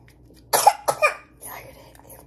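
A person coughs close by, two sharp coughs in quick succession followed by a softer throaty trailing sound, with a quiet background.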